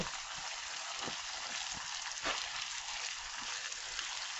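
Corned beef cabbage stew frying in a pan, a steady broadband sizzle with scattered soft pops and crackles, close and even throughout with no talking.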